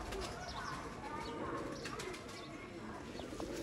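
A golden male Kasuri pigeon coos softly, with bursts of wing flapping and other pigeons calling nearby in a loft, quiet and close, over faint background voices.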